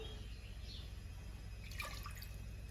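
Water is poured for a recipe before being mixed with milk: a soft, steady trickle and a few drip-like splashes over a constant background, with no talking.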